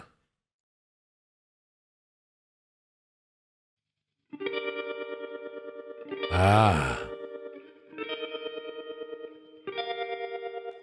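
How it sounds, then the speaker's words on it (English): An electric guitar plays alone, its sustained notes pulsing in a fast, wobbly tremolo, with one brief vocal grunt partway through. "now with the tremolo, let's solo it"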